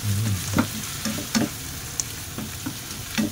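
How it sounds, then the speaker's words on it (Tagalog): Fresh bitter gourd (ampalaya) fries in a pan as it is stirred, steady close sizzling broken by a regular rhythm of spatula scrapes and taps against the pan, with no voices. "haluin lang natin yan hanggang maluto"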